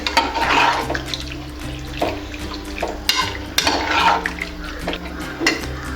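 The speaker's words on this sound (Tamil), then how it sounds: "இது வேக கொஞ்சம் தண்ணி ஊற்றிக்கலாங்க. கொஞ்சம் ஜாஸ்தியாகவே ஊற்றிக்கலாம்." Water pours steadily into a pot of mutton intestine in a kitchen, a continuous splashing rush with occasional clinks of metal vessels throughout.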